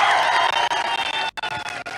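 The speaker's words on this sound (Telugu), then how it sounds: "చప్పట్లతోటి స్వాగతం పలకండి అని నేను అడుగుతున్నా" A large crowd at a political election rally in Parakala cheers and claps for a speaker, forming a loud, dense burst of cheering and applause that runs through the whole two seconds.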